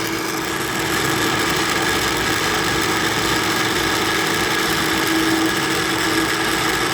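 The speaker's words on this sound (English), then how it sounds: "now you can hear the change in the RPM, pulling more power now because more of the nuts are falling on the blades" A blender grinds pecans into pecan butter, its motor a steady, loud whir with a constant pitch and a gritty churning texture, running alone without pause.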